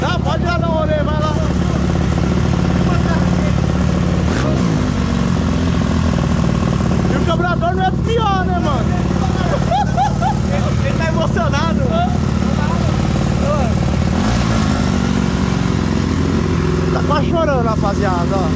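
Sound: Honda Titan 150 motorcycle engine running, tuned near 250cc

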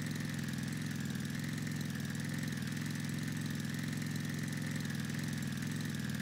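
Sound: vehicle engine driving in a cave, Roblox video game

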